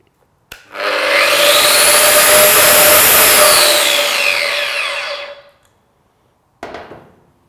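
A Metabo WEPBA 26-230 MVT Q angle grinder starts with a sharp click, spins up to a loud, steady high-pitched whine that holds for several seconds, then winds down and cuts off, followed by a brief second burst.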